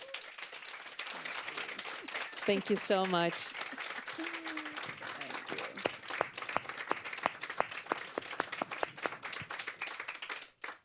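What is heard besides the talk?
audience applause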